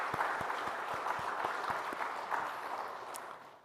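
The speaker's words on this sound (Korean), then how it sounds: "힘내라고 박수 한번 합시다" Steady applause from a church congregation fills the room, many hands clapping together at an even level throughout, then tapering slightly at the end.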